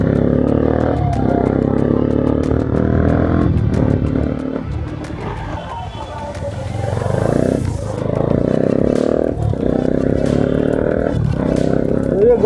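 A Bajaj Pulsar NS200 motorcycle fitted with an Akrapovic exhaust and dB killer revs repeatedly, with loud, near roaring blips that rise and fall, briefly drop back to idle midway, then climb again.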